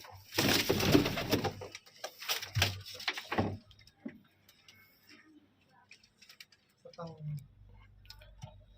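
Pigeons at a rooftop loft during a pigeon-flying competition coo and flutter close by, with scattered clicks and knocks, while voices talk over the first few seconds.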